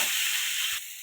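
Pointed gourd sizzling as it fries in a pan with salt and turmeric, a steady close hiss with no talk that softens slightly near the end.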